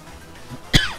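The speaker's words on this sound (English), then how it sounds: "Excuse me for coughing all over the old microphone" A single sharp, close cough blasts into a microphone partway through, following a quiet stretch of low room noise during a Pokémon TCG Online live stream.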